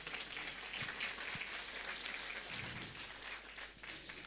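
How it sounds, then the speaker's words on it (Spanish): Sustained clapping from a church congregation at a Sunday service, applauding a choir group; a soft, even patter of many hands at moderate distance, with a low background hum throughout. "Una vez más vamos a dar por favor fuertes aplausos"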